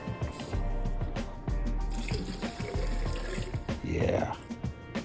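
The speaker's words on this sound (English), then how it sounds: "Now I have 6 cups of water. So you add that to your pan." Six cups of water poured into a pan of sorghum, a close splashing and trickling pour with clunks of the pan and vessel, ending in a rising gurgle as the pan fills.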